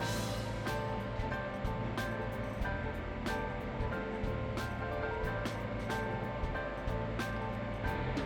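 Eggs are beaten in a bowl for a liquid-dough paratha, with quick, regular clicks and taps of the whisk against the bowl repeating steadily over a noisy background.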